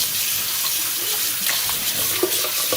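Okra being washed under a steadily running kitchen tap, a continuous broadband hiss of water splashing into a sink with small irregular spatters, close and fairly loud, with no talking.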